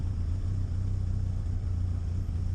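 2002 Kawasaki Voyager 1200 motorcycle cruising on the road, a steady low engine drone with rumbling wind noise, constant and close, with no voices.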